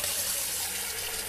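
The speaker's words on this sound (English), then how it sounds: "You get to know how much hot water to put in compared to cold, so you can be reasonably quick at filling this jug up" Tap water runs into a 4-liter jug, a continuous hissing, splashing stream, fairly quiet and steady throughout, with no voices.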